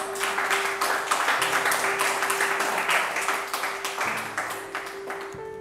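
At a poetry reading, a small audience applauds lightly in quick irregular claps, moderately quiet, with a steady tone and faint murmur underneath.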